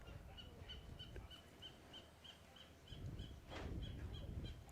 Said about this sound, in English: actually, you can hear a seagull